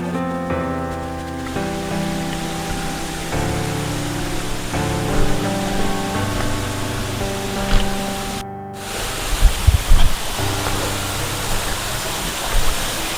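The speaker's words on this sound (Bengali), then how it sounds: "চলে এসেছি ধারাগিরি ওয়াটারফলসে।" Water rushes continuously at Dhargiri waterfall in Jharkhand, its flow low in the dry season, giving a broad steady roar with a few louder bursts of noise near the end.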